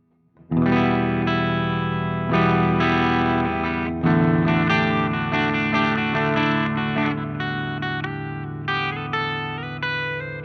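Brighter electric guitar chords on a Les Paul's bridge pickup ring out through a lightly overdriven Marshall JCM2000 TSL60 amp, followed by quick picked notes and a lingering strum, with no talking.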